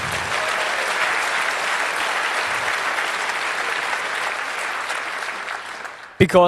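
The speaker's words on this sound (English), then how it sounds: "I think they can have one applause more" Steady applause fills a hall at the 25c3 closing ceremony, honouring the NOC help desk, dense and even before fading as a voice cuts in at the end.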